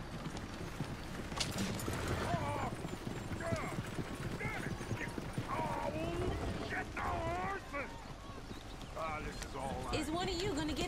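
Horse hooves clip-clop steadily in Red Dead Redemption 2, a continuous rhythmic trot running under overlapping character dialogue and talk throughout.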